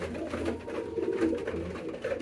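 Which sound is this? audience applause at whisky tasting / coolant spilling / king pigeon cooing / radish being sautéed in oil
king pigeon cooing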